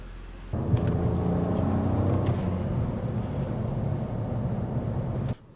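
A BMW E46 330ci engine rumbles steadily from inside the cabin on a test drive, a continuous low drone with slight rising revs as it accelerates, cutting off abruptly near the end.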